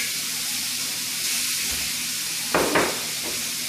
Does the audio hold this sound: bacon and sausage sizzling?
yes